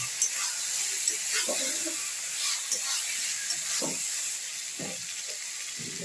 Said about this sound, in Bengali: এবার ফুলকপি আলু একসঙ্গেই দিয়ে দিলেন এবার এটাকে একসঙ্গে একটু কষিয়ে নেবেন